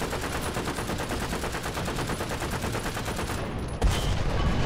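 Rapid, sustained machine gun fire from a tank in the video game War Thunder rattles loudly and evenly for several seconds, then stops abruptly and is followed by a heavier boom.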